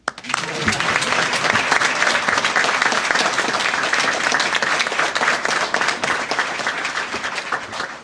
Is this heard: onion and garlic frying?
no